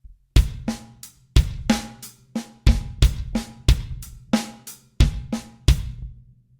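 A full bar paradiddle pattern on a drum kit, alternating crisp drum strokes with punchy bass drum beats at an even tempo, played alone and close.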